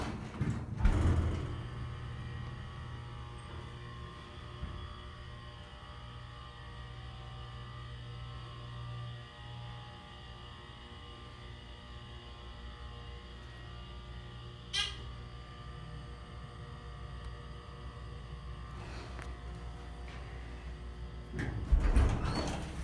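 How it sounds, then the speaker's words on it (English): A ThyssenKrupp Impulse elevator in a furniture store: faint mechanical hum with soft door thumps at the start and end, a brief click midway, all quiet and distant without speech. "Door close works."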